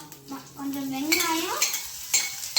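Onion and curry leaves sautéing in hot oil in a pan, a bright crackling sizzle under stirring scrapes and a faint tonal whine, close and fairly loud, with no one speaking.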